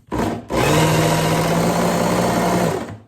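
A belt grinder with a coarse belt sharpens a Messermeister kitchen knife, whirring loudly in a steady grinding drone after a brief start, then spinning down at the end.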